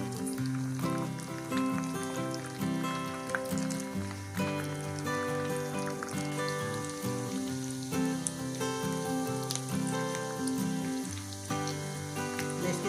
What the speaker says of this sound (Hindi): दरमियानी आंच पे हम इसको फ्राई करेंगे